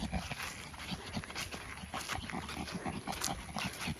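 An animal snorting at a farm, a close, continuous rough snuffling and grunting with repeated short bursts of breath throughout.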